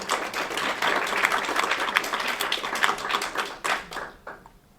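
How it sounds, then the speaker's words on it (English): Audience applause at a panel event on Chile in 1973, a dense burst of many hands clapping that holds steady, then tapers off and fades out near the end. "So let's just give them a preliminary round of applause."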